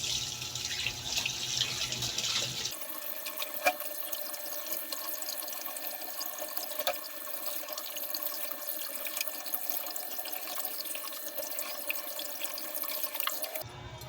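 Tap water runs steadily into a sink as raw pork is rinsed for nilaga, a continuous close splashing stream with occasional drips and small clatters, no talking.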